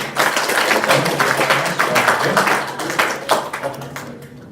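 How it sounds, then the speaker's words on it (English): An audience applauds to welcome a speaker, with dense, sustained clapping from many hands at close range that fades out toward the end. "Applause for her."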